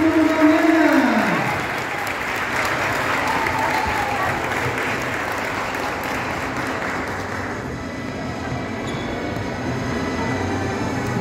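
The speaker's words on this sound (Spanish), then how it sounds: "Vamos a recibir a los niños de sala de 4 años. Turno mañana con los aplausos de todos los presentes." Families at a kindergarten physical education festival applaud to welcome a class of four-year-olds, a sustained wash of clapping at moderate distance after a brief voice at the start, tapering slightly near the end.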